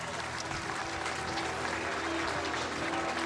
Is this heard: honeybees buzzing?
no